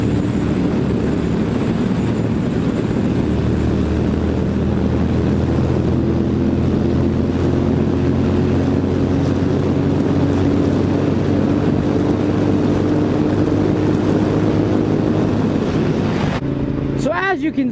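A sport motorcycle in fifth and sixth gear on an open road in Mexico, opened up toward top speed: a loud, steady engine drone with wind roar whose pitch climbs slowly and evenly, cutting off abruptly near the end.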